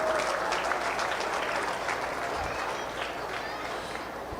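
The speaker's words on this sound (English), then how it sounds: "Give these exhibitors a big round of applause for the quality that they brought out this week." Audience applause at a county fair 4-H/FFA and open dairy cattle show, a steady broadband wash of many hands clapping at moderate level, sustained throughout with a faint hint of voices underneath.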